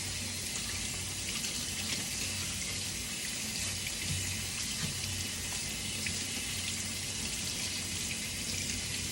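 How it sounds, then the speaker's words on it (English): Tap water runs steadily over carrots being rinsed in a sink, a constant close hiss and splash lasting throughout without pause. "I'm gonna give it a little rinse."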